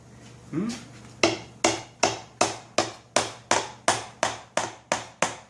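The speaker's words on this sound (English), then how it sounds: "Probably need to tap this open." A series of about a dozen sharp metallic taps on a Husqvarna riding mower part at a steady, even rhythm, each ringing briefly before the next strike.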